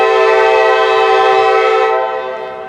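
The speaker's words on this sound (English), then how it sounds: "Sounds like an old CSX SD70. I don't know if it was an SD70 or an SD80 Mac. Sounds like one of those horns." A Norfolk Southern mixed freight train locomotive sounds its horn in one loud, sustained, chord-like blast lasting about two seconds, heard close up, before the sound starts to fade.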